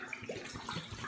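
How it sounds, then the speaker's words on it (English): Water poured out of a water bottle into a sink, a short, quiet splashing trickle heard close up with no talking. "just empty this water bottle."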